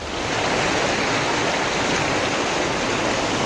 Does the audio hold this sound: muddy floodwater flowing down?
yes